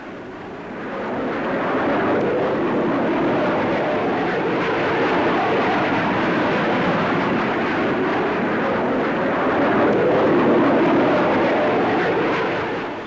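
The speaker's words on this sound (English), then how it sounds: "Powered by 4 Rolls-Royce Avon jets, this aircraft will fly from London to Johannesburg via Cairo and Nairobi in just over 15 hours" A Comet jet airliner with four Rolls-Royce Avon engines roars steadily for over ten seconds, a dense, loud, broadband jet rumble that swells in gently and holds nearly constant before easing off at the end, no voices.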